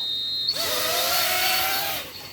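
Tiny Whoop micro drone (BetaFPV Rip Air 75) with swapped motors whines into a steady high-pitched buzz on a hover test flight, spooling up sharply, holding a rising-then-level tone for about a second and a half, then cutting off.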